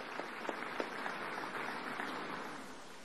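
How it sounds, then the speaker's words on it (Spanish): Faint, distant applause from a crowd at a political party meeting, a soft steady patter of clapping with a few sharper claps early on. "Un aplauso a Margarita."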